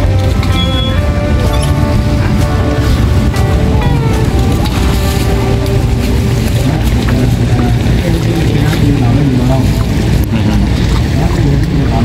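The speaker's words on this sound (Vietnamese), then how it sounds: "chiếc ghe ở dưới sông như thế này các bạn" Boats chug along the river at the Cai Rang floating market, a constant loud engine drone mixed with wind buffeting the microphone and splashing water.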